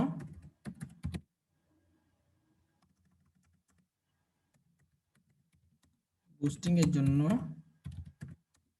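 A short flurry of close computer keyboard keystrokes opens, followed by a long quiet stretch with faint, sparse tapping, then a person speaks near the end.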